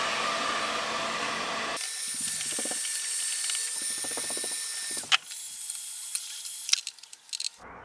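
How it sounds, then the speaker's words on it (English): A heat gun warms a wooden guitar side clamped in a bending press, a steady blowing hiss that cuts off abruptly, followed by quieter creaks, clicks and small knocks from the press and wood. "playing the heat gun over the part that is doing the bending"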